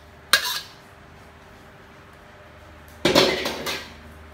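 Stir-fried pork with young green chilies is scooped from a pan, giving two loud, close metallic scrapes of utensil against cookware separated by a quiet pause.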